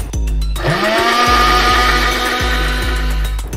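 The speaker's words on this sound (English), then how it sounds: "them in the blender, add water, blend" A kitchen blender whirs loudly as it purees roasted garlic, diced onion and parsley leaves with water, starting with a sharp spin-up and holding a steady whine with slight pitch dips as the blades catch.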